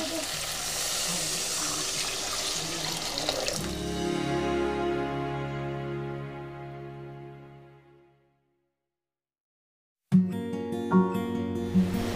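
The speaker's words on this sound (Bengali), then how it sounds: "এবার জল দিয়ে দেব।" Water poured into a pan of spiced mango curry being made with snakehead fish in a Bengali village kitchen, a steady rushing pour and sizzle that fades to silence, then resumes with bubbling.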